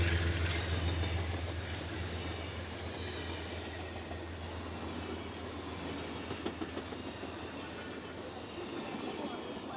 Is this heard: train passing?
yes